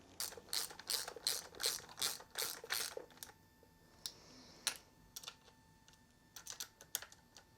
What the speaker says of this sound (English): I'm just going to put a few nuts on there and just really lightly tighten it down.